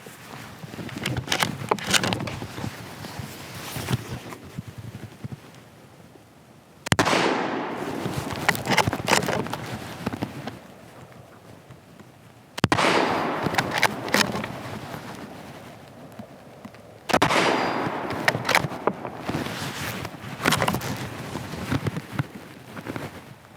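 Four sharp rifle shots from an Anschutz 1771 at an outdoor range, each a loud crack followed by a long decaying rumble, spaced several seconds apart over steady background noise.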